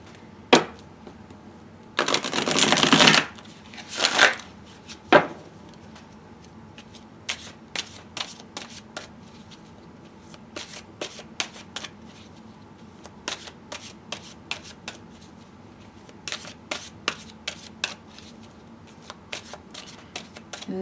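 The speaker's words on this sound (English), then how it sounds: "now I'm going to shuffle my Chrysalis Tarot deck" A Chrysalis Tarot card deck being shuffled by hand, with two loud riffle bursts early on, then a long run of sharp, irregular card snaps and taps, close and quiet between them.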